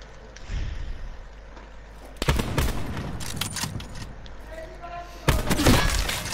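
Gunfire from Call of Duty: Black Ops 4, with two loud broadband bursts of shots and impacts over steady game ambience. Excited voices cheer faintly in the background.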